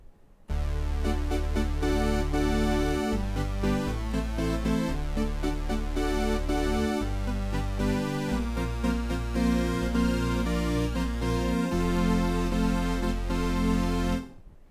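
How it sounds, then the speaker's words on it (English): Rich, buzzy synthesizer notes with a thick, shimmering chorus effect, playing a sustained bassline and chords for about fourteen seconds without talk. "And that is the chorus effect."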